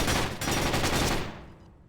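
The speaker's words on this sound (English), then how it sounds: "Exchanging gunfire." Rapid gunfire exchange in a Warzone video game match, dense overlapping automatic bursts at steady loudness that fade away over the last half second.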